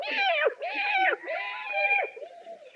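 Several drawn-out meows in quick succession, fairly close, each rising then falling in pitch with no other sounds around them.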